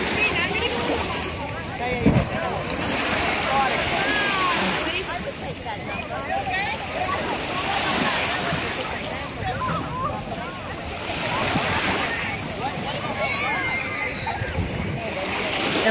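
Ocean surf washes steadily onto Paradise Beach in Cozumel, with broad continuous wash and periodic swells of splashing water filling the whole stretch, and voices faintly mixed into the busy shoreline noise.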